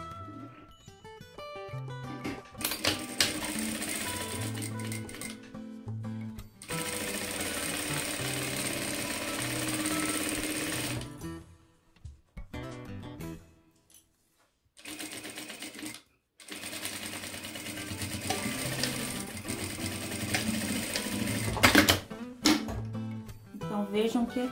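A sewing machine stitches a clutch bag, running in long continuous whirring passes with short stops between, while someone talks during the sewing.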